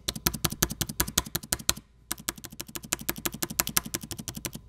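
Spacebar on a Dell XPS 9570 laptop pressed repeatedly in quick, even taps close up, sharp plastic clicks with no squeak, a brief pause midway then a second steady run of presses.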